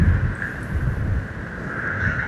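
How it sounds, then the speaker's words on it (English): Gusty wind buffets the microphone during an electric skateboard ride, with low rumbling thumps alongside a steady engine-like drone throughout. "It's very windy now, so you probably can't hear anything I'm saying."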